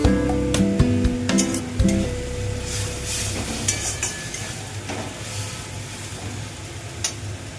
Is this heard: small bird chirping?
no